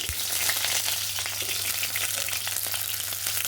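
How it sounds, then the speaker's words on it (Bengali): Eggplant crackles and sizzles in hot oil in a village kitchen, a close, even frying hiss with light stirring sounds and no talking. "বেগুনটা ভেজে নেব।"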